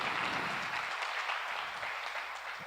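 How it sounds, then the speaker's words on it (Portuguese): Congregation in a church claps together in a continuous, fairly quiet wash of applause, heard from a little distance without talk over it. "Dá uma salva de palmas ao Senhor."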